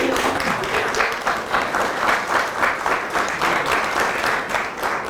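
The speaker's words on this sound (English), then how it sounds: "Clap if you believe." A theatre audience at a stage performance applauds steadily, many hands clapping in a dense, sustained wash that stays even in loudness throughout.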